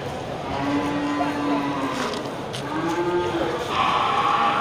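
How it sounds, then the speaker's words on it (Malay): Aceh cattle lowing at the Gelombang Payung animal market, a few drawn-out moos rising over a busy crowd murmur and background chatter. "Suasana pasar hewan Gelombang Payung"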